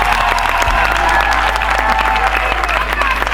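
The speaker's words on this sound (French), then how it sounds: "Applaudissez pour elle, s'il vous plaît." Wedding guests applaud at a civil marriage ceremony, a steady dense burst of clapping from a crowd with a low hum underneath and a few voices mixed in.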